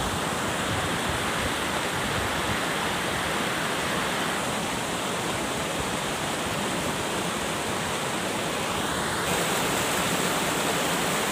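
Dugarwadi waterfall on a trek route, roaring as a steady, dense wash of falling water that stays loud and unbroken throughout, with no voices over it.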